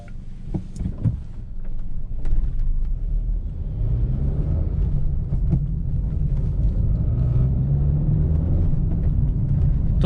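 A car moving at a good speed along a road, its low engine and road rumble droning steadily and fairly loud throughout, with a few faint knocks early on and no talking.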